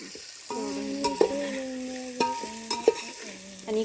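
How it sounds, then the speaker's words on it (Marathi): Spices hiss as they temper in hot oil in a pan for mutton curry, while metal utensils scrape and stir and harmonic tones ring out in stretches over the sizzle. "आणि इकडे बघा फोडणी टाकायची चाललेली, मटण शिजून झालेलं आपलं आणि फोडणी टाकायची चाललेली"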